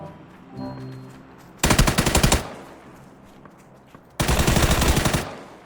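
Two loud bursts of rapid automatic gunfire from a PUBG battle royale match, each lasting under a second and separated by a quieter stretch, close and harsh with no talk over them.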